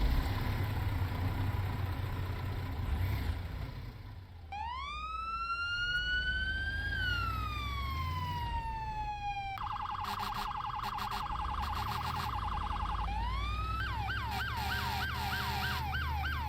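An ambulance siren in the video game Into The Flames rises and falls in a long wail, then switches to a rapid yelp and a fast warble, loud over a low engine drone.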